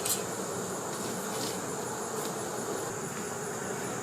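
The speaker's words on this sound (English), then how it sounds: "I just saw a bee with pollen." A steady, droning buzz of many bees, close and continuous, with no talking.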